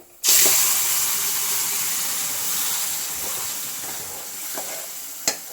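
Bone and tapioca curry being stirred and mashed in a pot, a steady wet bubbling sizzle with occasional soft knocks and a sharp clack near the end, no talking.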